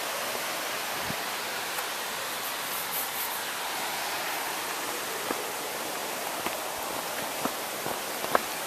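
A small waterfall beside a rocky trail, a steady broad rushing hiss of falling water with a few faint ticks and knocks scattered over it.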